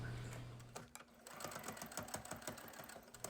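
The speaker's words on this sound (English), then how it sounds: "I'm just going to sew straight line down each side" A sewing machine stitching a straight seam down the side of a fabric face mask: a fast, even needle chatter running close and steady after a brief start-up, with no talking.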